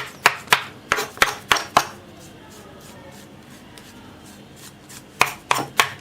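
A knife cuts and trims the edges of a freshly rolled sheet of warm flour halwa on a board, giving crisp, sharp taps in quick bursts of about six strokes, then a pause, then a few more close strikes.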